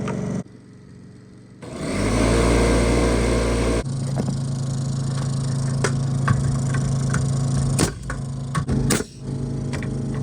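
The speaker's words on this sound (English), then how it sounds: "let's fire the air compressor up and start pounding some boards in" An air compressor powers a palm nailer while boards are nailed in under an off-grid Alaska cabin being built. It kicks on abruptly and runs as a loud, steady motor drone with a deep hum, with a couple of sharp bangs near the end.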